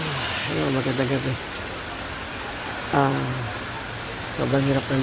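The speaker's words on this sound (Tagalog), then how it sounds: "Nabuta kami ng malakas na ulan sa Bicol." Heavy rain pours steadily in Bicol during a ride, a dense close hiss throughout, with brief bursts of talking breaking in over it.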